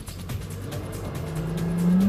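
Fishing boat engine being started while in gear during a fishing tournament: a rough, steady rumble with background noise, then the pitch climbs as the motor catches and revs up near the end.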